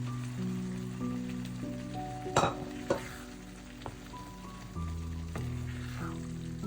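Boiled rajma kidney beans tumble into a hot masala pan, giving a soft sizzle with a few sharp splashes and clatters, then steady frying crackle close by. No one speaks.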